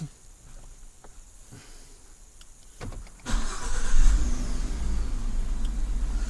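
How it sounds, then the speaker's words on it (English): A 2016 Ford F-150 pickup truck engine, triggered by remote starter, cranks and fires up after quiet clicks, then settles into a loud, steady idle. "Now our engine is started."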